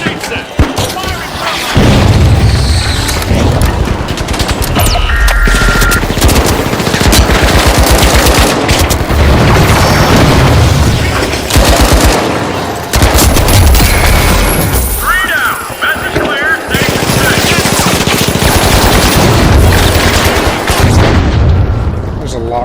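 Dense, loud video game gunfire with automatic bursts and booming grenade explosions, nearly continuous and close, from a chaotic large multiplayer Minecraft civilization battle; a voice talks briefly over the clatter.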